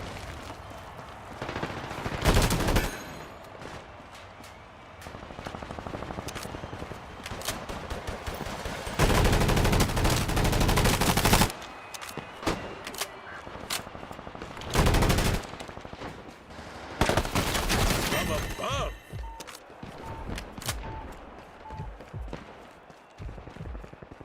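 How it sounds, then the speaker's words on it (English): Loud bursts of gunfire and explosions in a Combat Champions multiplayer match, with repeated heavy blasts and rapid shot volleys over about twenty-four seconds. "Boy, the art department really outdid themselves with the fireworks."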